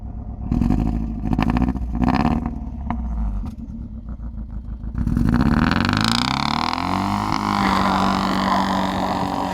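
A Mercedes W202 AMG engine runs rough on three cylinders, close and loud, with an uneven, stumbling idle that rises into a ragged rev and then settles into a sustained, lumpy drone.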